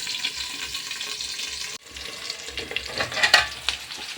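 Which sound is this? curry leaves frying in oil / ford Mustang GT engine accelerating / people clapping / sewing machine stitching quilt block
curry leaves frying in oil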